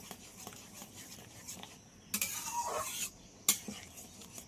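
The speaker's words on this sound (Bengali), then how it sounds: "খুন্তির সাহায্যে ঠিক এমনভাবে একটু নেড়ে দেব।" A spatula stirs boiled lentil dal in a pot, giving soft scrapes and light metallic taps, then a brief louder rush of clatter and one sharp knock near the end, fairly quiet with no talk.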